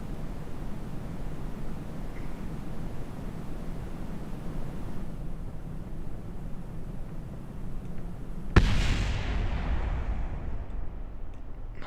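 A rocket test launch in Kerbal Space Program with the RP-1 mod: a steady roaring hiss builds, then a sudden sharp blast gives way to a louder broadband roar that slowly fades.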